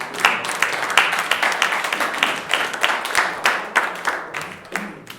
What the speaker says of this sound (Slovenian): dajmo še aplavz bratu iz Nemčije